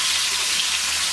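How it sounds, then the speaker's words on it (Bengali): Chopped onion frying in hot oil with fenugreek seeds in a Bangladeshi home kitchen, a steady dense sizzle with no voices. "মেথিটা দেওয়ার পর পেঁয়াজটা ভেজে নিচ্ছি।"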